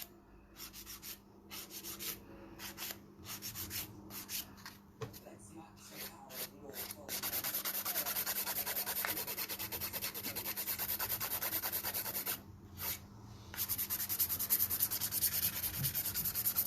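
Nail file rasping back and forth against a sculpted stiletto acrylic nail, a quick steady scratching run of close, fairly soft strokes that builds into a denser, continuous filing texture.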